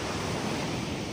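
Sea waves wash steadily onto Al Mamzar Beach in Dubai, a continuous broad rushing hiss with wind noise mixed in, fairly soft.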